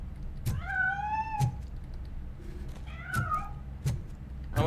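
A cat meows twice in RoboCop: Rogue City, two drawn-out, close, clear calls about two seconds apart, with soft thumps and faint game ambience underneath.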